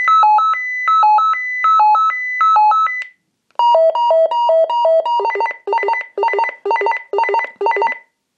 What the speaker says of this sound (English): This is the call tone, I believe.